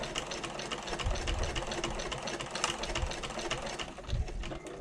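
A sewing machine runs a quarter-inch seam down the side of a bag's slip pocket, a steady close mechanical hum with a fast needle tick throughout, alone and fairly quiet.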